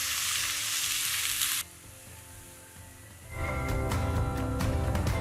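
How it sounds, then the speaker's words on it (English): Onions hitting hot cooking oil in a pan, a loud steady sizzle that drops off abruptly, then returns as crackling frying with stirring clatter after a quiet pause. "So once your oil gets hot, you're going to add in your onions"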